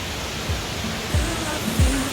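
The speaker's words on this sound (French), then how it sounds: "C'est la Mae Klong Waterfall." Mae Klong Waterfall in Doi Inthanon park, Thailand, running low in the dry summer: a steady broad rushing hiss of falling water, continuous and fairly near, with a few soft low thumps.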